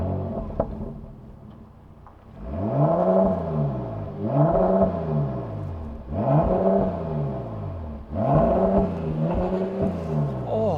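An old Bentley Bentayga W12 Mulliner revs hard four times in close succession, each burst climbing and falling back with a deep rumble, close and loud after a quieter idle.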